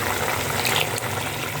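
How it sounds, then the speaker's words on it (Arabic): Two cups of water poured into a tray of kofta and sliced potatoes, a continuous close, loud gushing splash filling the whole moment without talk. "وابتدي اضيف كوبايتين ميه"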